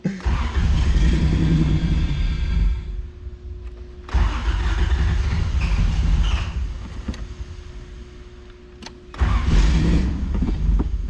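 A fuel-injected engine burning old, varnishy fuel revs loudly and unevenly, its rumble surging, dropping back and surging again several times as though struggling to stay running.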